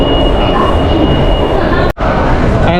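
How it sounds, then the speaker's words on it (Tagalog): Interior of a moving MRT train in Kuala Lumpur: a loud, steady rumble and hiss of the carriage fills the space, briefly cutting out for a split second before resuming. "Sa ngayon ay nasa loob rin kami ng MRT."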